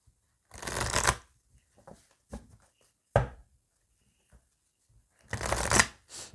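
A deck of oracle cards is shuffled in three separate bursts of riffling and rustling, the longest two at the start and end, with small taps and shuffles of the cards between them and no talking.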